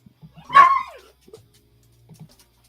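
A dog gives a single short bark or yelp up close, followed by faint whimpering and a few soft low sounds, with no talking.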